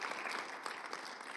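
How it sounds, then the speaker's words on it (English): Applause from a live audience at a televised Rejoice Alberta judges-category competition broadcast, a steady dense round of clapping filling the whole short stretch at moderate loudness. "A round of applause for them."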